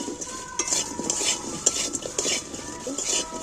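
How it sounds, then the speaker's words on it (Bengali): A spoon scraping and stirring fish roe and chillies frying in a pan, with repeated metallic scrapes over a steady sizzle, close and fairly loud. "দিয়ে এবার আমি এখানে খালি নাড়াচাড়া করে দেবো।"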